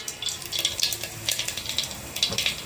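Mustard and cumin seeds crackling in hot oil in a pan for a Gujarati potato curry, giving faint, irregular popping and sizzling bursts close by with no voices.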